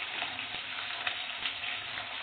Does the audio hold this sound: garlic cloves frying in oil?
yes